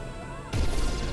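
Bowser's dragon blast in Super Mario Odyssey: after a quiet stretch of faint tones, a sudden loud explosive burst hits midway and rumbles on heavily to the end.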